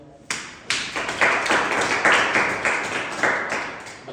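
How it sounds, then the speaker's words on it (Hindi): A classroom of students claps for a classmate named Himanshu, a quick run of sharp, close hand claps in an uneven rhythm that starts abruptly and carries on steadily without talk. "हिमांशु के लिए तालियां।"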